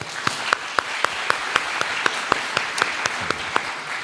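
A Korean church congregation applauds its worship team, a rhythmic round of clapping with sharp, regularly spaced accented claps standing out over a softer wash of hands.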